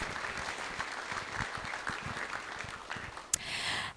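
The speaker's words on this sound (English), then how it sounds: "so let's give them a round of applause" A group at a Sunday temple love feast gives a round of applause, steady and fairly soft, as if heard from across the room.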